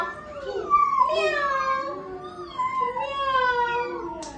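Preschool children's voices imitate a cat's meow, drawn-out wavering cries overlapping one another, close and fairly loud.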